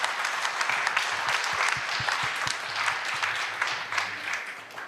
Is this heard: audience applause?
yes